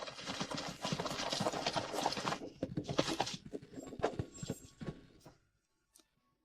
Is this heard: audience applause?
no